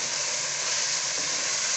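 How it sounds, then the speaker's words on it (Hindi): Shredded cabbage with mixed vegetables frying in a pan, giving a steady, close, even sizzle throughout with no talking over it. "अब बंद गोभी डाल रही हूँ मैं। 1 से 2 मिनट इसे फ्राई करना है"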